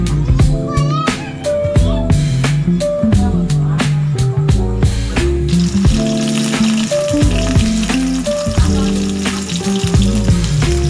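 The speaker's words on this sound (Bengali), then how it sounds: "একটু লাল লাল করে ভাজতে হবে।" Pieces of katla fish fry in hot oil for a doi katla dish, giving a loud, steady sizzle with stirring clatter throughout and a strong musical background track over it.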